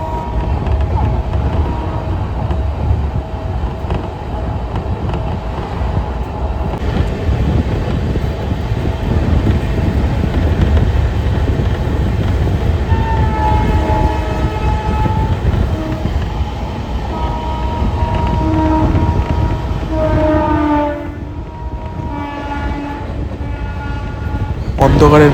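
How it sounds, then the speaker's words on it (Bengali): The 13153 Sealdah–Malda Town Gour Express, an LHB coach rake hauled by a Sealdah P7 locomotive, roars along at speed with steady loud rail rumble, and the horn sounds in repeated tonal blasts toward the end. "অন্ধকারের মধ্য দিয়ে ঘন কুয়াশার মধ্যে ট্রেন ছুটছে একদম পুরো ম্যাক্সিমাম স্পিডের থেকে একটু বেশি গতি নিয়ে"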